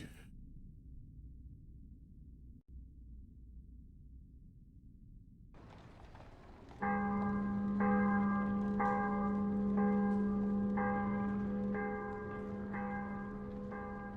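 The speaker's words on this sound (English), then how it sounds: "Roll that beautiful bell footage." Church bells toll in the video game Mask of the Rose, entering after a quiet low hum and ringing loud and sustained in a steady repeating rhythm of rich overlapping tones.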